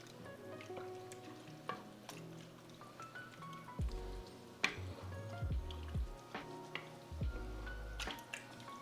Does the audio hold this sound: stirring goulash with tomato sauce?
yes